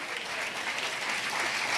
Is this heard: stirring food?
no